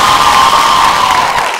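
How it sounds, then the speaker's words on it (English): A talent show audience applauds and cheers loudly for a singer, a dense, steady wall of clapping and whoops filling the whole moment with no gaps. "Can you give her another round of applause?"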